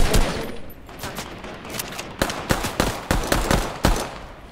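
Gunfire in the video game Fortnite, a headshot among sharp shots that crack loudly and close in irregular bursts over a steady background rumble.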